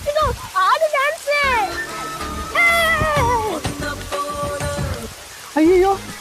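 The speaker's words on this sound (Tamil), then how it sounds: "என்ன திடீர்னு இவ்வளவு பெரிய மழை?" Heavy rain pours down in a steady, broadband wash that runs through the whole stretch, half-buried beneath lively, animated voices talking and exclaiming over it.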